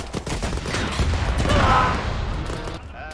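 Sustained gunfire in the Arma 3 video game, a dense rattling fusillade with booming low end that swells in the middle and fades toward the end, loud and continuous.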